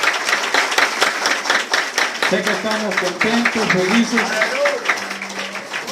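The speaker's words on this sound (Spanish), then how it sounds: "Fuerte aplausos a nuestro Dios" A church congregation in Carrizal, San Andrés, Lempira applauds during a worship service, a steady mass of clapping that runs throughout. Someone speaks over it, and a sung melody line joins partway through.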